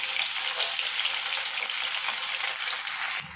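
Paneer pieces frying in hot oil after being turned golden brown on both sides, giving a steady, dense, close sizzle that runs unbroken before dropping off abruptly at the very end.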